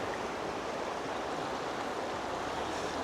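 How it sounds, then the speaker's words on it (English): Fast-flowing river beside a backcountry riverside camp near Squamish: a steady, loud, full-band rush of water that never lets up, heard alone without any voices. "This river flows properly fast"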